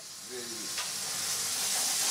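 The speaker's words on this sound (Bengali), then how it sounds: "মশলাটা একটু ভাজা হয়ে গেল" Spices with gravy and green chillies fry in a pan, giving a loud, continuous close sizzle and hiss that builds slightly in intensity, with light stirring.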